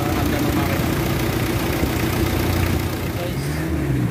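A Mitsubishi Adventure diesel engine with throttle delay, vibration and low power idles close by: a steady, even rumble with a constant low throb that never changes pace.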